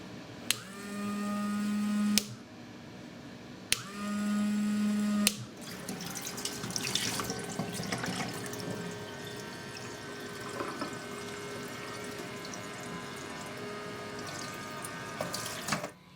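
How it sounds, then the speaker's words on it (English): Battery-powered water pump drawing water from a storage container through a hose, a steady whirring motor hum in two short bursts, then gushing, splashing water running for several seconds. "turn on the button, and it will pump the water out for you through the extra hose"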